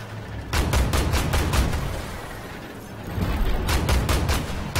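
Armored Warfare artillery combat: a steady roar of rapid, repeated gunfire bursts, loud and dense, easing briefly in the middle before another volley starts, with no one speaking.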